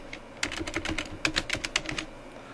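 A short burst of keystrokes on a computer keyboard as a single word is typed into a text box, crisp close clicks in a quick uneven run with no one talking.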